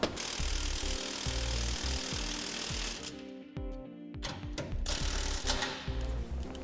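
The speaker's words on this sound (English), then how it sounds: "As we tighten down the U-bolt, we want to make sure we do it evenly from top to bottom." A ratchet tightens the U-bolt of a B&W gooseneck trailer hitch under a 2004 Chevrolet Silverado, giving a faint, rapid run of rhythmic metallic clicks that pauses briefly midway and then resumes.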